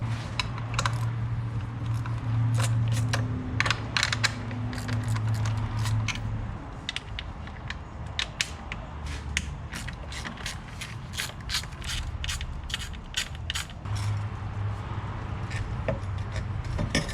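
A ratchet tightens a rocker cover bolt on a Suzuki Vitara 2.1TD engine, giving a long run of rapid metallic pawl clicks in repeated bursts, close and steady, with faint creaks between strokes.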